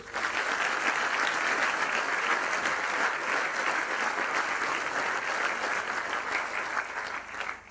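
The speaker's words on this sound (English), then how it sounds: "Could you please give them a round of applause?" Audience applause for the heads of school at a college speech day and prize giving, a large crowd clapping steadily and evenly for several seconds before it fades at the very end, with no talking.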